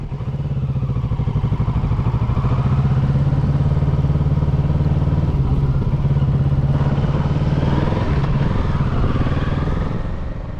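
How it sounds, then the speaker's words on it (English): A motorcycle in a parking lot during a precision brake exercise, its engine thrumming steadily and close by, with slight shifts in pitch as it slows toward a stop, no speech over it. "The first exercise is a precision brake, where the aim is to stop your motor in such a way that you stop in between the front two pylons."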